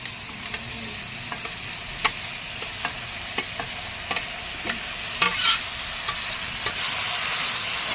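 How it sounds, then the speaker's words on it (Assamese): Potatoes and dal frying together in a pan, with a steady soft sizzle and a series of sharp scraping clicks from stirring at irregular intervals, close up and with no talking. "এতিয়া দাইলখিনি লগতে দি মই ভাজিম"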